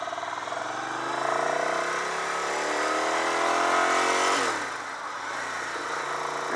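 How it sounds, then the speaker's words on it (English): A 2001 Ducati 900 SuperSport motorcycle engine running steadily while being ridden, with a continuous mid-pitched drone that rises through revs, then drops off as the rider eases off or shifts; no talking. "This is a new to me 2001 Ducati Super Sport 900."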